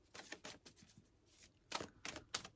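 Tarot cards being shuffled by hand, a few soft, quiet riffling bursts separated by short pauses.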